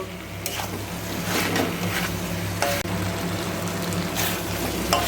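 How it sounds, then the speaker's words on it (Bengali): Pre-fried prawns being stirred into a jackfruit curry in a pan: steady sizzling and frying hiss, with a few brief scraping strokes of a spoon against the pan. "এবার আমি এর মধ্যে দিয়ে দেব আগে থেকে ভেজে রাখা চিংড়ি মাছগুলো চিংড়ি মাছগুলো দিয়ে আবার ভালো করে নাড়াচাড়া করে নেব"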